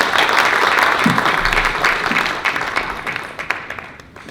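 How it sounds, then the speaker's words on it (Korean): An audience applauding at a journalism ethics forum of the Korean newspaper ethics commission, a dense steady clapping that fades gradually over a few seconds. "박수 부탁드립니다"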